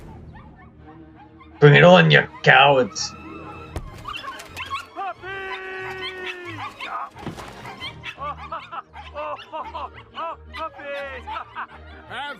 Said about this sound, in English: I want the puppies to wake up so that I may take care of the puppies.